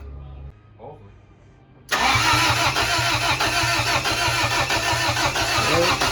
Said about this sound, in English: Right, priming the oil pump.